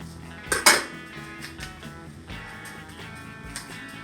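Yeast being stirred into a mixture in a bowl for homemade hot dog buns, with a couple of sharp clinks of utensil against the bowl early on, followed by softer intermittent scraping and tapping.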